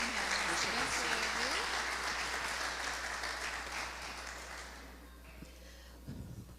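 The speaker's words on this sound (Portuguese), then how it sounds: "aplaudindo ao Senhor, em nome de Jesus" A church congregation applauds in a sustained, dense wash of clapping that fades out over about five seconds, with a voice speaking over the start and a few scattered claps and a brief voice near the end.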